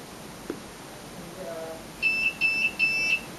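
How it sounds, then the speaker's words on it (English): Three short, evenly spaced electronic beeps from a Chuango home alarm panel, fairly clear over a quiet room hum, preceded by a faint brief tone. "After a short moment, you get 3 beeps"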